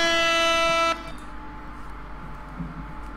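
A loud, sustained air horn blast comes through an online player's microphone during a Space Engineers session, cutting off sharply after about a second and leaving low background hum.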